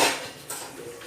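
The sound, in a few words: pan (tava) placed on stove with oil added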